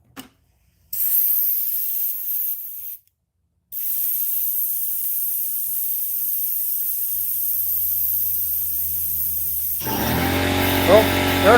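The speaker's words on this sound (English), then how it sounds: "air compressor" Air compressor hissing loudly and steadily at close range outdoors, a broad continuous rush that cuts out briefly and then resumes, with a voice and other noise joining near the end.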